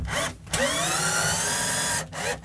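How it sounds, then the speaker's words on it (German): A power drill pre-drills a hole in wood, running in one loud steady whine with brief drops at the start and end, no voices. "Und da könnt ihr auch im Holz schon mal vorbohren"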